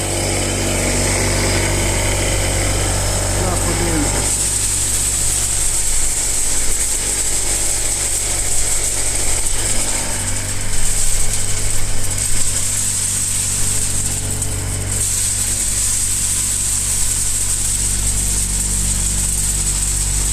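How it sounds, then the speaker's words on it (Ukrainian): A small seed winnowing machine motor, used for calibrating pumpkin seeds, runs steadily with a constant hum and whine, close by and continuous, with no talking. "Зробив ось овіялку таку для насіння, для гарбузового, щоб калібрувати"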